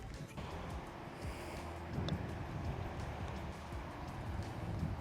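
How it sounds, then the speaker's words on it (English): Steady wind roars across the microphone in a continuous low, rumbling rush, with no voices. "it's so dang windy"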